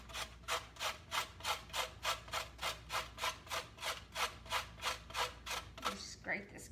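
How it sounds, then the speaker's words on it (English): A carrot rubbed over a hand grater in a steady, even rhythm of about a dozen close rasping strokes, ending with a brief clatter. "Just grate this carrot in here."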